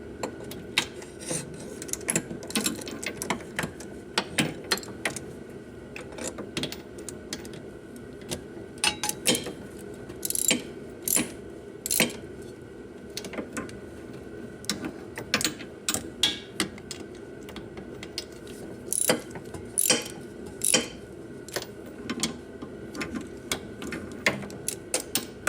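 Ratchet clicks from a mechanic snugging the wheel bearing bolts on a 2008 Chevrolet Malibu, heard as repeated short bursts of ticking and rasping spread across the clip, fairly close, with no talk.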